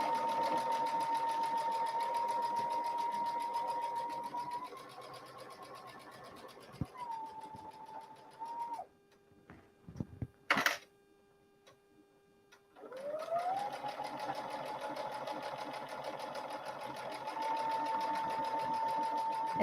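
Sewing machine stitching forward and backward while a foot is lowered: a steady whirring hum that shifts pitch, pauses with a sharp click in the gap, then resumes its even drone, fairly close.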